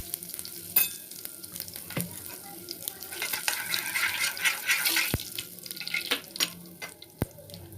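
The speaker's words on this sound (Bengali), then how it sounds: "এদিকে তেল গরম হয়ে গেছে, এখানে আমি 5 ফোড়ন দিয়ে দেবো।" Panch phoron spices and a spoonful of hing crackle in hot oil for amla achar, a close, busy sizzle with scattered sharp pops and utensil clicks, and no talking.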